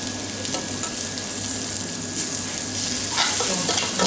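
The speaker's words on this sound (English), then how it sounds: "This pan's nice and hot now, so it's actually searing the meat up really well." Beef searing in a very hot pan, a loud, steady, close sizzle that continues throughout with brief stirring scrapes toward the end and no talking.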